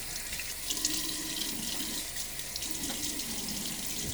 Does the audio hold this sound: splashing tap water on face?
yes